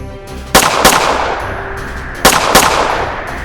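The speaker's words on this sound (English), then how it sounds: "She then turns her gun towards the Queen and starts firing." Pistol gunfire sound effect, loud and close: two pairs of sharp shots, each pair fired in quick succession, with a metallic ringing tail and a pause between pairs.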